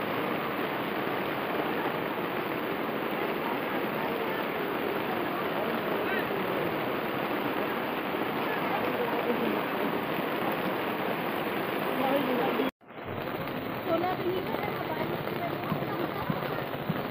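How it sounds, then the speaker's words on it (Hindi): Steady, heavy rain pours down continuously near a market while out shopping, a dense hiss that breaks off abruptly for a moment and then resumes. "कभी भी बारिश हो जाती इधर।"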